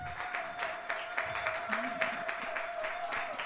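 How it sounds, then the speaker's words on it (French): An audience applauds graduates at a church graduation service, with fairly quiet, steady clapping and a faint sustained tone running underneath. "Est-ce qu'on peut les applaudir?"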